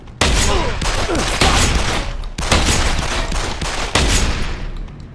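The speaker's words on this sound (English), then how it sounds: "Someone's shooting!" Rapid gunfire from the video game Deus Ex: Human Revolution: loud, close bursts of automatic shots in several clusters, with sharp cracks standing out and no talking over them.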